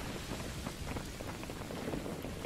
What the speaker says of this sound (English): I think they added the rain.